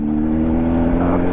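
A car engine runs steadily at high revs with a strong, even drone throughout, loud and close, with no voices.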